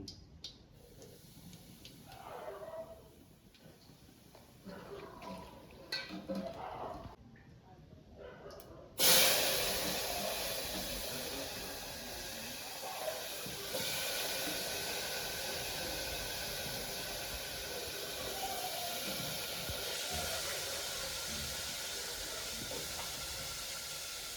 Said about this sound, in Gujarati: જો રાઈ જીરું એડ કરી દીધું છે